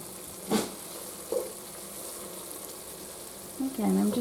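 Onions cooking gently in butter over medium heat for French onion soup produce a soft, low sizzle, broken by a couple of brief stirring knocks and a short burst of louder clatter near the end.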